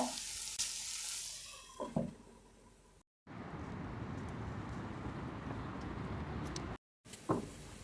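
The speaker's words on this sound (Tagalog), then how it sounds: "hayaan muna natin maluto yung ating vegetable" Bell pepper and vegetables sizzle and fry in a covered pan, a steady soft crackling hiss broken by two brief silences and a few louder clatters of the lid or utensil.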